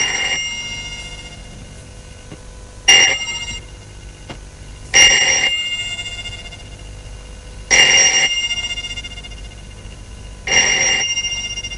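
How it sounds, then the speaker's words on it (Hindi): An old landline telephone rings at night in a Pakistani TV drama, four loud bell bursts spaced evenly a few seconds apart, with quiet gaps between. "ये किसका फोन हो सकता है?"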